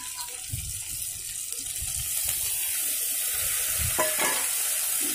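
Water added to spice paste frying in a pan while cooking rohu fish, a hissing sizzle with stirring scrapes, growing louder and steadier partway through.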